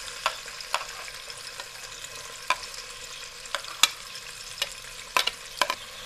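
Onions sizzle and crackle in a pan of ghee while a spoon stirs them, scraping with repeated sharp clicks against the pan. The steady hiss carries no voices.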